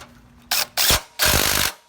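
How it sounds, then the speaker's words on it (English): A 13 mm impact driver tightening bolts on a Porsche 911 997.2 during a spark plug change, three short loud hammering bursts, the last one longest, close up with no talking. "Grab my impact driver, 13 millimeter."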